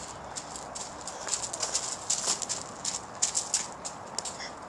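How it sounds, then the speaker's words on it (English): Footsteps stomping on rocks at a seashore, a series of irregular crunching, clattering impacts close by with no voices. "Are you stomping on the rocks? Oh, they make cool sounds."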